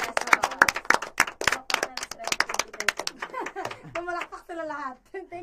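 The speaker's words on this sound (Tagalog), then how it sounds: "Pumalakpak sila lahat." Several people clap in scattered, uneven bursts during a casual livestream quiz game, with voices talking and laughing over them before the clapping gives way to speech.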